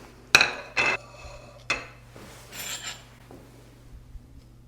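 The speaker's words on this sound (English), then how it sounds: "I'm just gonna grab a dish here to put the apple slices on." A dish is taken out and set down in a home kitchen, making a few sharp ceramic clinks and knocks close by, followed by softer rustling and a faint tap, with no one speaking.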